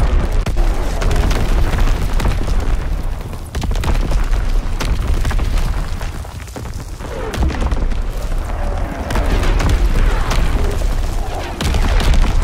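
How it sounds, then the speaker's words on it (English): Artillery barrage in the World War II shooter Call of Duty: WWII during a Domination match, a dense run of heavy booming blasts and rumbling impacts rolling on continuously, loud and close, with a brief lull midway. "Firing division artillery."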